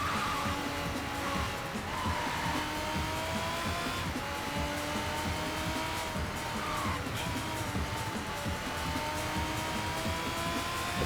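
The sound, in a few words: race car engine in video game Sega GT Online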